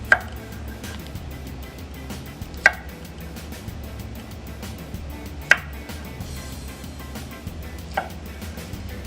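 A knife slicing a banana into four pieces on a board, with four sharp, evenly spaced taps roughly every two and a half seconds over a quiet background hum.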